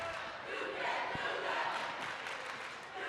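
Packed student section at a high school basketball game, Baldwin Bulldogs versus Tonganoxie Chieftains, roaring and cheering loudly and steadily in a gym as one continuous crowd wash.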